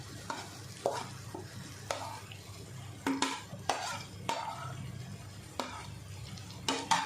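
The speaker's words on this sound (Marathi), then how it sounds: "आता आपण याच्यावर ही गवार टाकूया जो आपण मिक्सरला बारीक करून घेतली" Finely ground cluster beans (gavar) are stirred and roasted in a pan, a soft continuous sizzle punctuated by repeated scraping strokes of a spatula against the metal.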